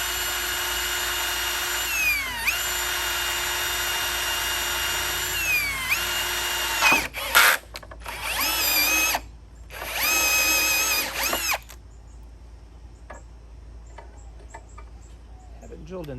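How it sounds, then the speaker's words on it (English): Power drill boring into metal for a homemade lateral engine mount on a Victoria 18 sailboat, close and loud, motor whine rising and falling in long runs with brief pauses and ratcheting stops, then quiet handling noises at the end. "Haven't drilled in this metal in a long time, so I expected problems."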